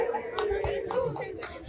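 Audience clapping at a motocross award ceremony in Chilca, Peru, with irregular hand claps from a modest crowd heard over a steady murmur of background voices.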